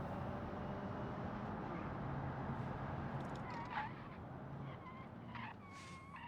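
Sport-model front-wheel-drive compact car engine in the Automation driving game, accelerating with a steady dense roar throughout, joined by brief tire squeals and chirps in the later seconds.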